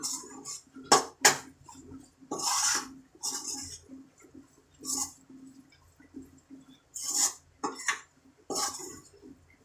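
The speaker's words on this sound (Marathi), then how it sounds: "या मसाला चांगलं परतून घ्यायचं आहे" Masala spiced with Kashmiri chili being sautéed and stirred in a pan at home, with close, uneven bursts of a spoon scraping and clattering against the metal. There is no voice.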